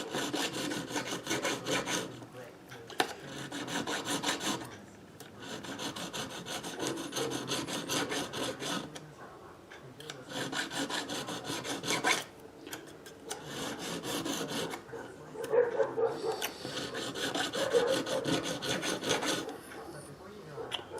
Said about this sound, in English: those have to get recrowned so that I don't have this wide flat